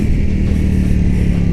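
A Ducati Panigale V4S engine roars loud and close under load, a steady throaty drone with no clearly separate quick-shifter gear changes.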